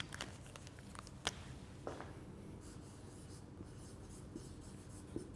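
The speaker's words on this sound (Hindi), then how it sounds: "मैं यहाँ पे बेटे लिख रहा हूँ रिलेशनशिप्स" Marker or chalk writing on a board, several short quick strokes with pauses between, faint and close in a quiet room.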